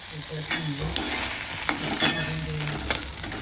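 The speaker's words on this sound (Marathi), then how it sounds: "मिरची भाजली" Green chillies roasting in a pan for a homemade chutney, giving a steady close sizzle and crackle with a few louder pops and scraping stirs throughout, no voices.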